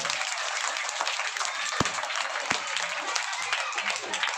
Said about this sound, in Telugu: వెరీ గుడ్, గట్టిగా క్లాప్స్ కొట్టాలి.